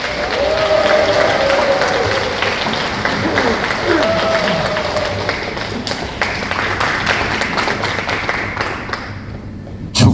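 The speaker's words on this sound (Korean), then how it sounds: "한 번 더 박수로 환영해 주시기 바랍니다." Loud, dense applause from an assembled audience welcoming a speaker at a security lecture event, continuous clapping that thins out toward the end, with a voice briefly audible underneath.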